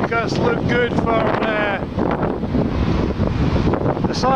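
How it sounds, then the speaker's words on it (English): Gusty wind buffets the microphone outdoors on a sunny, blustery day at the edge of Storm Ciara, a steady low rumble running throughout with someone talking over it. "It's just windy, a bit of sun."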